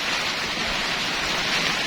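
Heavy rain pours steadily, a dense, loud hiss of water drumming on surfaces with no pauses or voices.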